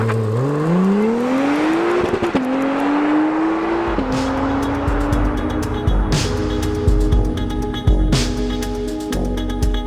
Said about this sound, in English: put my left foot on the brake, build up the revs